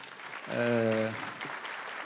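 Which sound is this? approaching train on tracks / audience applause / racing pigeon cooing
audience applause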